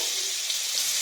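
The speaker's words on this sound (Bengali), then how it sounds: "ফুলকপিটা হালকা করে ভেজে নেবো" Cauliflower pieces frying in hot oil in a pan on a home gas stove, a steady bright sizzle running close and unbroken throughout, with no voices.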